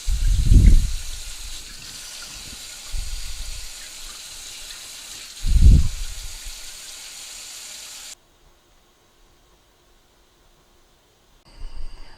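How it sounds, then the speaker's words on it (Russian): Tap water running into a pot on the stovetop for strawberry compote, in a few short gushing bursts with quieter flow between them, then near silence. "Воду берем простую из-под крана"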